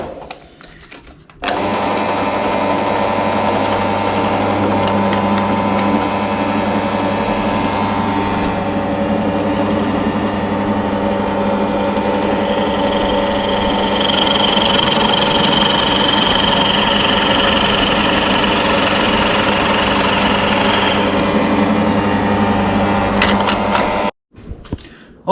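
A motorized drill with a large bit grinds steadily for about twenty seconds, its pitch and strain shifting as the bit bites into the wood of a rocking horse, then it cuts off.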